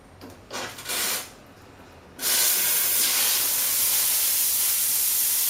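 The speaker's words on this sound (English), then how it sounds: "Okay, so we'll turn on the steam arm." A traditional espresso machine's steam arm opens with a sudden loud, steady hiss that continues unbroken, following a few short softer bursts of steam.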